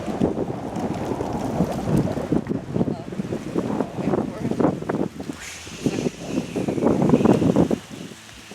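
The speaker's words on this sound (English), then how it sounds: "the wind started kicking up." Gusty wind blows outdoors around a tree house, buffeting the microphone in irregular rumbling surges that swell louder near the end, with people talking intermittently underneath.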